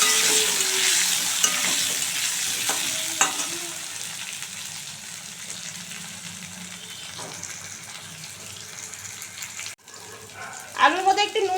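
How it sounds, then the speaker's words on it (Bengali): Cut potatoes fry in hot oil spiced with cumin, cardamom and cinnamon, giving a loud, continuous sizzle that slowly eases, with a few spatula knocks and a brief clatter near the end. "আলুটা একটু ভাজা ভাজা করে নেব"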